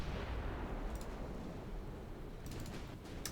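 Naval gun battle between warships in a dreadnought-era strategy game, with a dense, continuous low rumble of distant cannon fire and shell impacts and a few sharper bursts near the start and end.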